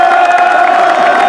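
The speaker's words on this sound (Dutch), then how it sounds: "mag ik een groot applaus voor Rian" A lively crowd roars and cheers for a standout club member named Rian, loud sustained shouting and whooping filling the space closely with little break.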